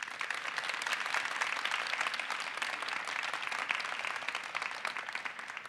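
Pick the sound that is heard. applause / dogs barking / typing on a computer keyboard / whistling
applause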